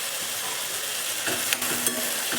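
Cabbage, potato, green chillies and tomato sauté in a pan, giving a steady close sizzle with a few light stirring scrapes and knocks.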